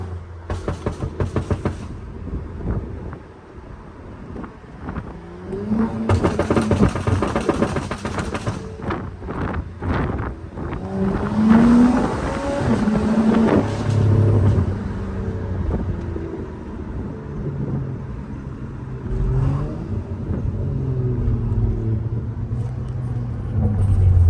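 BMW 535i fitted with a Hellcat 525 Walbro fuel pump and relay kit, its engine revving in repeated rising and falling bursts close to the microphone, with wind buffeting and brief talk between the revs.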